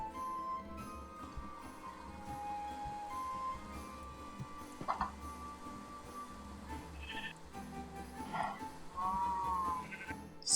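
Blocky sheep bleating inside the farming game Minecraft, with a couple of short bleats rising over a steady backdrop of game music and ambient tones.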